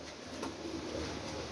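Pigeons coo softly from a rooftop, low murmuring calls under a steady background hiss, faint and continuous.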